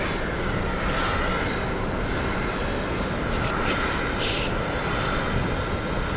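A JetBlue airliner passes at JFK airport, its engines producing a loud, broad roar that holds steady across the whole stretch, with faint voices underneath.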